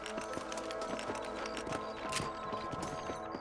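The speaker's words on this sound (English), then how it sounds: "Let's get back on the horses and see what else is going" Horses' hooves clip-clop in Red Dead Redemption, a steady rhythmic patter of hoofbeats set under game music and ambience, moderately close and continuous.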